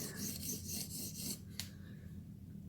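A steel blade being sharpened to raise a burr gives a few close, crisp rasping strokes, with a sharp click near the middle and a steady low hum underneath.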